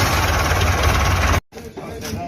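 A Belarus MTZ-80 tractor engine idles loud and close with a steady low chug, then cuts off abruptly into quieter background with faint voices.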